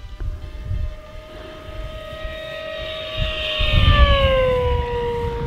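An E-Flite V1200 RC airplane easing into throttle at high speed over a runway: a loud, sustained electric whine that holds its pitch, then sweeps downward as the plane passes, over outdoor wind rumble.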